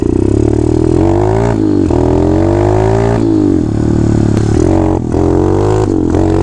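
A dirt bike is ridden hard across a field, its loud engine revving up and down in repeated rising and falling sweeps as the rider pulls wheelies, close and continuous.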